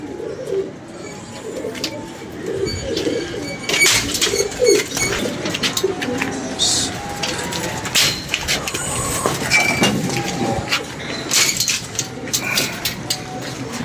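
Pigeon cooing with other bird calls in an outdoor setting, steady low coos under a busy, continuous background of chirps and clatter, moderately loud throughout.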